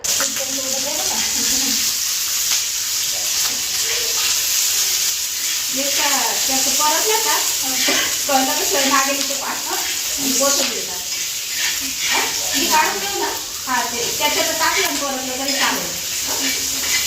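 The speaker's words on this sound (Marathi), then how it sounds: "तव्यावरती तेल टाकून हिरवी मिरची लसूण हे सगळं काही फ्राय करते" Green chilli and garlic frying in oil on a griddle pan give a steady close sizzle with stirring scrapes, while someone talks over it much of the time.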